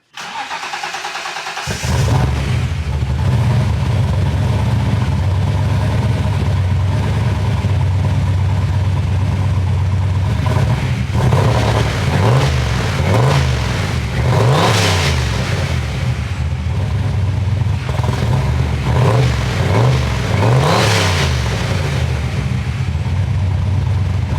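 A Fox body car with a Dart-block 347 stroker V8 cranks and fires, then idles loud and steady, running a little rich after sitting, with several revs rising over the rumble near the end.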